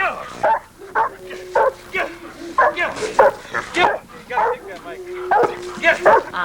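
A protection dog barks in repeated sharp bursts, close and loud, while a handler urges it on with short commands between and over the barks.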